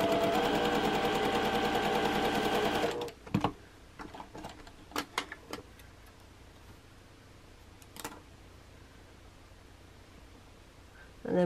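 A sewing machine stitches a quilt block seam in a steady rapid whir for about three seconds, then stops, followed by scattered close clicks and handling taps.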